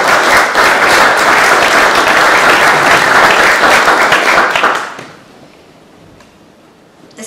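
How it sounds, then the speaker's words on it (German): An audience at an award ceremony for German Jewish history bursts into loud, sustained applause that holds steady for several seconds, then drops off abruptly to quiet room tone. "Deswegen nochmal Respekt und Applaus"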